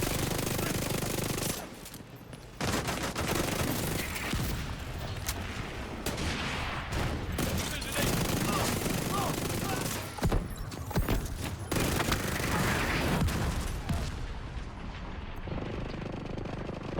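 Gunfire in The Division 2, dense rapid automatic bursts and pistol shots rattling almost without pause over a busy battle din, loud and close, fading near the end.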